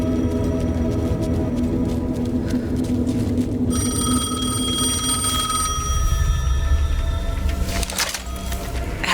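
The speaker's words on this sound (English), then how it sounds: "was ringing. Somehow I knew the call was for me." Telephone rings inside the horror game Alan Wake 2, a bright repeating bell pattern with tonal ringing layered over a low ambient drone, shifting to sharper high chimes midway.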